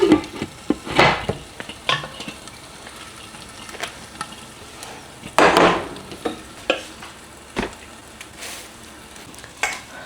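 Kumquat, dill seed and mint cook in a pan with a low sizzle, punctuated by intermittent scraping and knocking strokes of a stirring utensil up close.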